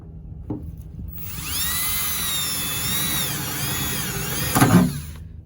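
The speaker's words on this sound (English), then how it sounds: "Well, that was easy to drill through that one." A power drill whines steadily for a few seconds, pitch wavering as it bites through a truck's exhaust pipe metal, ending with a short louder grind.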